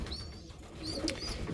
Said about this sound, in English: beautiful pigeons